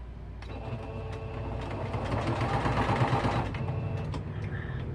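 A sewing machine stitches a spoon handle, whirring up into a fast, steady mechanical rattle that holds for a few seconds and then slows and stops, heard quietly and up close.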